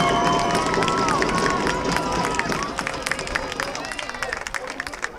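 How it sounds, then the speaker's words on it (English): Crowd at a girls' high school flag football game between West Islip and Sayville, a loud swell of cheering and clapping that slowly fades and thins, with a commentator talking over it. "The crowd in front of us loves it."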